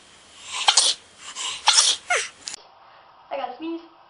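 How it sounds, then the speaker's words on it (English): A woman sneezes nearby, sharp bursts with breathy intakes around them, loud and close with little else in the background. "I have to sneeze really bad."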